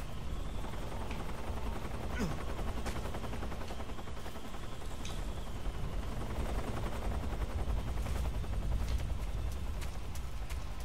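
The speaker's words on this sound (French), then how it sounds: "Meanwhile, l'hélico passe." Helicopter flying past in the stealth game Metal Gear Solid 3, a steady broadband rotor rumble that stays loud throughout, mixed with scattered sharp bursts that resemble gunfire.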